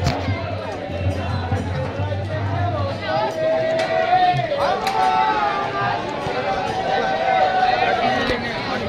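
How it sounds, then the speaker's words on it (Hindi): A large crowd of devotees fills a Hindu temple during a Mahadev pilgrimage, a steady, close hubbub of many voices and general commotion that runs throughout, with a few sharper shouts and noises rising above the din. "मंदिर में काफ़ी ज़्यादा श्रद्धालुओं की भीड़ है, उमड़ी है।"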